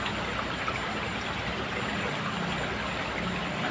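Strong current of water rushes past at a fishing spot, making a continuous, even wash of noise with no talk over it.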